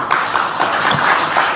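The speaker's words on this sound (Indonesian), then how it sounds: "Tepuk tangan yang meriah kenapa ya?" Audience applause at an Indonesian political gathering, a steady dense patter of many hands clapping that carries through the whole short stretch at fairly loud level, with no talk over it.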